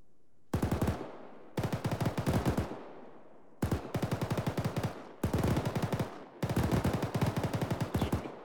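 A machine gun fires rapid bursts in a military training video game, five loud close volleys of quick shots, each lasting about one to one and a half seconds and separated by short pauses, with no talk over them.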